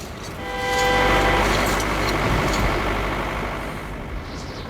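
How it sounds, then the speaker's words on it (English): Approaching truck in the video game Metro 2033, set in a windswept Moscow: a loud, broad engine rumble swells over the first second and holds steady, with faint tonal whine, before easing slightly toward the end. "Getting closer to the tower, Artyom hears a truck."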